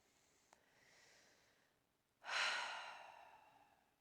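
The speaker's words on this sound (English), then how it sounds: "I'm going to take my own suggestion and just sit here and breathe" Slow, audible breaths during a quiet yoga session: a soft, faint inhale, then a louder, drawn-out exhale like a sigh, alone in a hushed room.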